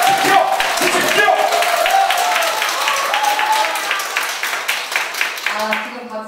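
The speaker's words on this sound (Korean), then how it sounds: "아, 지금 박수 치셨네요." A crowd claps steadily through a residents' information meeting in Jeonui-myeon, Sejong, a debate over a permeable-block factory moving in. The dense clapping fills the room while voices talk over it.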